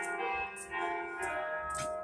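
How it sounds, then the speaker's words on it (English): A church bell rings in repeated strong strokes with long ringing overtones, heard close by outdoors with no talk over it. "I hope my voice can be heard despite the bell going off"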